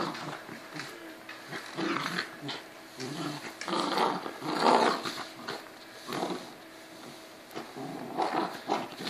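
A puppy growls in playful bursts, rough rumbling snarls rising and falling close by, with no talking.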